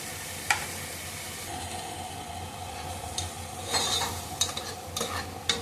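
Tomato paste with cinnamon and cardamom frying and being stirred in a pan, a soft steady sizzle broken by sharp clicks and scrapes of a spoon against the pan.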